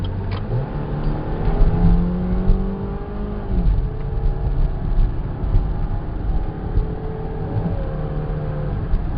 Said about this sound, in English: There's your squeal.